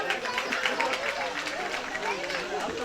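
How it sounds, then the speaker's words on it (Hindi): Audience at an outdoor Bhagavat Katha gathering giving a short burst of steady applause, with a murmur of voices mixed in. "एक बार उनको भी तालियों का आशीर्वाद।"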